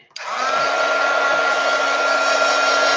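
A hair dryer switches on with a click and runs steadily, drying paint on a foam head. It makes a loud, close, even whirring blow with a constant motor hum and no talking over it.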